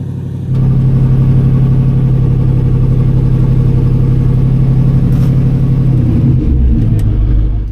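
Off-road build-challenge vehicle engine climbing a rocky trail step, a loud close low rumble with rhythmic throbbing, holding steady and then surging and revving near the end.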